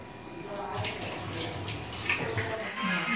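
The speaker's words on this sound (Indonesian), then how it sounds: "Cuci tangan kita dulu." Hands being washed under a running tap before a workout, with a steady broadband rush of flowing water throughout and brief splashy accents, while voices speak faintly underneath.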